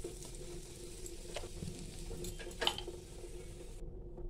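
Asafoetida sizzles in hot ghee on a tava over a low flame, a soft, steady crackle with a few faint stirring clicks and no talk.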